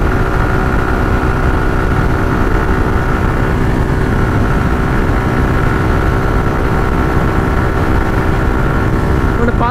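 Motorcycle carrying a pillion passenger pulls in fifth gear, its engine a steady, loud, close drone with constant road and wind roar and no pauses.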